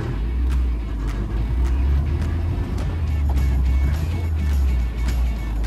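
Car engine droning steadily while driving, a loud close low rumble with road noise as the throttle eases off, no clear rise or fall in pitch.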